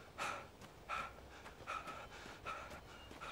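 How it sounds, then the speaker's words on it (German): A video game character, Alan Wake, panting out of breath, with rhythmic heavy breaths repeating about every three quarters of a second, faint and close. "Wake völlig außer Atem, voll hier am Schnaufen im Kopfhörer."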